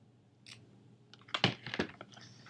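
Scissors trim a small piece of material on an accordion coin pouch, giving a few quiet, close snips and rustles in quick succession.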